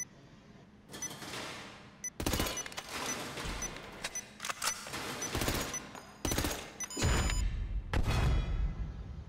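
Suppressed gunfire at the GTA 5 shooting range in first person: repeated bursts of muffled, snappy shots with short pauses between them, plus metallic clicks and thuds, close and fairly loud.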